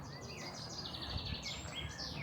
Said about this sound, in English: Hear all the birds singing in the background here.